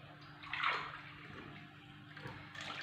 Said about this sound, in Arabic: ندير زوج كيسان ماء دافي